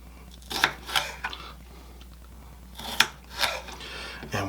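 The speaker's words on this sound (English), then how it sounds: "And we're just going to make thin strips out of these. These peppers." Crisp knife cuts through bell peppers being sliced into thin strips on a board for chicken fajitas, arriving in two clusters of rapid, close, snappy strokes with short gaps between them, no voices.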